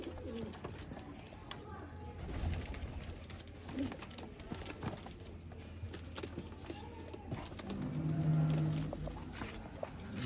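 Pigeons coo in a competitive pigeon-flying setup in Narowal, low, soft calls repeating amid background bustle, with people talking nearby.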